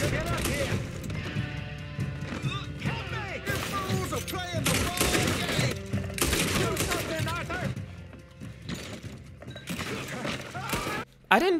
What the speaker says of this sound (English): And more shooting.